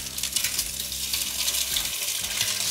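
An egg fries in a pan at breakfast, a continuous crackling sizzle with soft pops and faint clinks close by, steady throughout with no talking.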